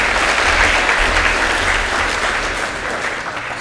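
An audience at a lightning talk session bursts into loud, sustained applause, with dense, even clapping from a large crowd that fades slightly toward the end.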